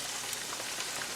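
Chicken pieces frying in enough oil to nearly deep fry them, giving a dense, even sizzle and crackle that holds steady throughout with no talking.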